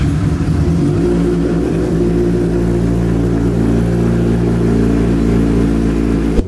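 A Honda CB1000 motorcycle engine runs loud and close during a ride, a steady droning hum that holds its pitch for several seconds before cutting off abruptly, with no voices.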